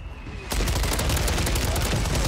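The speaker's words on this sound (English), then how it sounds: "Requesting fire mission. Target marked." Artillery fire mission striking in a first-person shooter video game, a sudden loud barrage erupting after a quiet half-second and rolling on as dense, continuous booms and crackling blasts.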